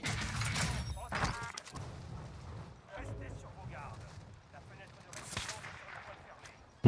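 Sniper rifle shots crack out during a Warzone match, loud sharp reports standing out over continuous game noise and a voice talking throughout.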